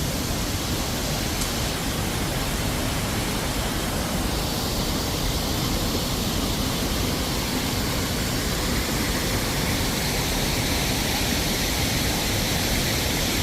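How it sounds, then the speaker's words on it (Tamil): A waterfall pours down a mountainside in Switzerland, making a dense, unbroken broadband roar that stays loud and even throughout with no voices. "கடல் இல்லை, அருவி கொட்டுது."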